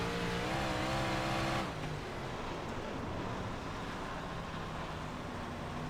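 A Big Block Modified race car in the iRacing sim at Williams Grove drones steadily and loudly at high revs. Its pitch drops abruptly after a moment, then holds a rougher, lower roar.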